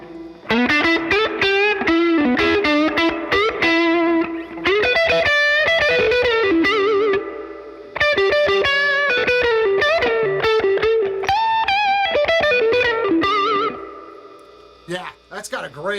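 Electric guitar played through an amplifier with reverb and a good amount of gain, loud, sustained distorted chords and riffs that ring on with a reverb tail, broken by brief pauses before fading at the end.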